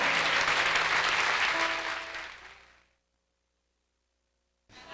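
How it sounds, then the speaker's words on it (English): Studio audience applause for Doc Watson and Chet Atkins on a Nashville country TV show, a loud dense round that fades out over about three seconds into silence before a brief return at the end. "would you applaud Doc Watson and Chet Atkins?"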